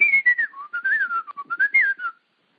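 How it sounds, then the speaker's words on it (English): A single person whistles a quick, bright melody up close, notes sliding and leaping for about two seconds before stopping into silence. "can you whistle for us?"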